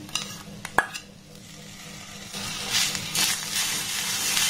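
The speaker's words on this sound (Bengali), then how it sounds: "গ্যাসের ফ্লেমটাকে একদম লো রেখে এবার এটাকে একটু ভালোভাবে নাড়াচাড়া করে নেব" Grated coconut and jaggery being stirred in a pan over a low gas flame, with a soft continuous scraping and gentle sizzle, a couple of sharp utensil clinks near the start, close by with no talk.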